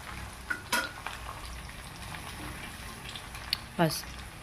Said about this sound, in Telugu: ధనియాల పొడి యాడ్ చేసుకొని మరలా మిక్స్ చేసుకోవాలి.